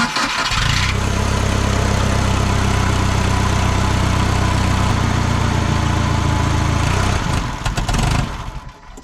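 A propane-fueled engine on auction equipment runs at a loud, steady idle for several seconds, then sputters and shuts off, its rumble dying away into near silence.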